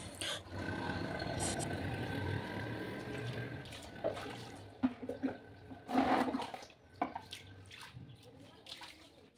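Water splashes and pours across a floor being washed by hand at home, a steady wash of running water with sharper splashes and knocks around the middle, fairly close and moderately loud.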